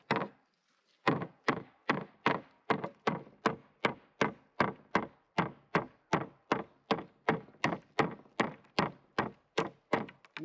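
A hammer strikes wood repeatedly while a ship's ladder is built in an off-grid cabin, about twenty sharp, evenly spaced blows close by after a short pause, each ringing briefly.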